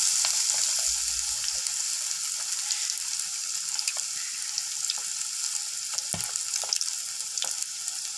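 Egg chops deep frying in hot oil, a steady soft sizzle with scattered crackles and pops and a brief stir or clatter, fairly quiet and close, without speech.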